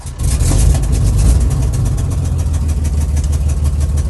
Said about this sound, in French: T'accélères et tu appuies sur le démarrage.